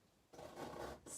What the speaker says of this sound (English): scrape out a bit of roof